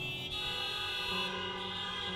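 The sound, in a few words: audience imitating a car horn honk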